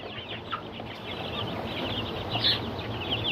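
Broiler chicks in a brooding pen with unlimited feed cheep continuously in a dense, faint chorus of overlapping high peeps, with no talk.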